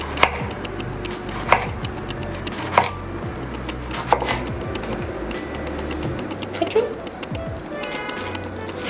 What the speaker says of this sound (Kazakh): Ол үшін помидор огурцты жақсылап турап алуымыз керек.